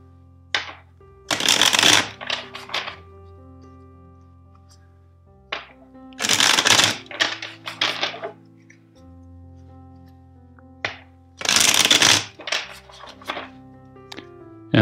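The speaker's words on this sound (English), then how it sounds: "First, let's shuffle the deck 4 times for you." A tarot deck is shuffled in several close, crackling riffle bursts spaced a few seconds apart, with brief card taps between them and soft sustained background music.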